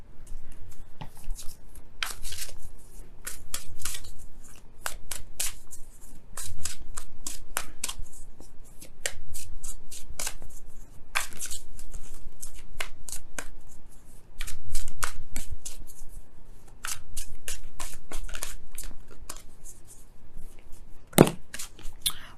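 Oracle cards are shuffled steadily by hand, with rapid close riffling and flicking bursts continuing for over twenty seconds and no voices.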